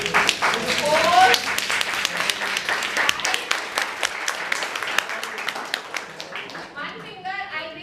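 Seminar audience clapping with four fingers, a dense patter of light claps that thins toward the end, with voices audible over the top.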